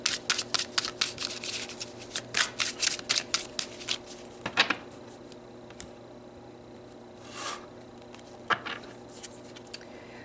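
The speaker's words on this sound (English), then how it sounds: "So let's pull some more cards." A deck of tarot cards shuffled by hand, a quick cluster of crisp flicking snaps, then scattered single card slides and taps as cards are pulled, close and quiet with no talk.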